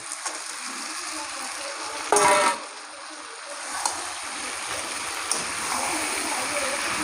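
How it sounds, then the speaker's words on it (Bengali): Fried potatoes go into a mutton curry in a pan: a steady hiss of cooking, then a brief splashy burst as they land, followed by the sizzle continuing with faint scrapes. "এবার এই ভেজে রাখা আলুগুলো দিয়ে দেবো"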